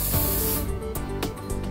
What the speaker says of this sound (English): you may want to use Leviton spray loop to make assembly easier